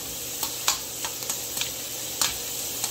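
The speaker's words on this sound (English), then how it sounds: "the calamari is still cooking" Calamari cooks in a pan with seafood for pasta pescatore, giving a steady soft sizzle broken by a few brief stirring clicks, fairly quiet and without voices.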